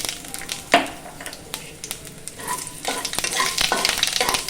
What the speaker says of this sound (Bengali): ওই একই তেলের মধ্যে দিয়ে দেব আমি 2টো শুকনো লঙ্কা আর তেজপাতা, আর দিয়ে দেব 1 চামচের মতো 5 ফোড়ন।